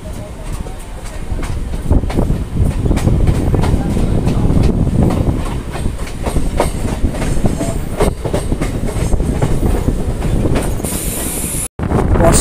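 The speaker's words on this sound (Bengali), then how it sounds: "অবশેষে আমাদের ট্রেন গলসি স্টেশন ছাড়লো" A Barddhaman–Asansol local train pulls out of Galsi station, its carriages rumbling and rattling loudly and continuously from inside, with wheel clatter and wind buffeting the microphone.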